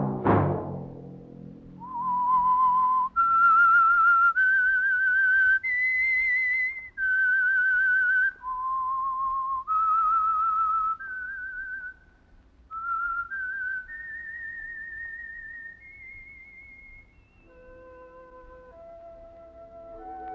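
A signature whistled melody for an old-time radio mystery show, a clear solo tune of sustained notes gliding between pitches, opening with a brief low sound and ending on a descending phrase.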